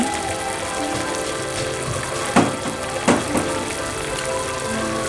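Oysters sautéing in a pan for a yellow-broth oyster dish, giving a steady close sizzle and crackle throughout, with a couple of brief louder clinks or stirs partway through.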